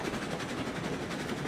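A freight train in RailRoads Online, a video game, rolls along tight track with a steady rumbling roar and rhythmic clickety-clack of wheels, heard alone at moderate volume.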